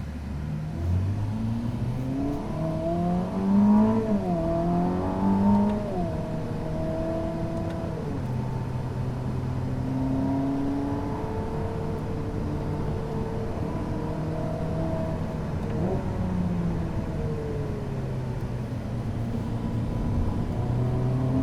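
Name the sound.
Ferrari SF90 V8 biturbo hybrid accelerating on track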